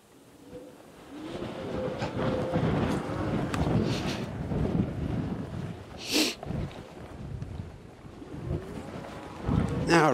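Headwind rushes against the microphone while riding an e-bike outdoors, a loud continuous blustery roar with surging gusts and occasional sharp bumps.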